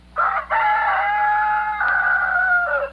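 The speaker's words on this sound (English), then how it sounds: "The roosters crow." Roosters crow loudly in a long, drawn-out call with a brief break partway through, clear and close with no talking.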